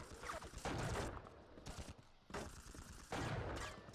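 Enemy gunfire from the Scarred in Unreal 2: The Awakening, dense bursts of game weapon fire that come and go in loud waves with short lulls between them.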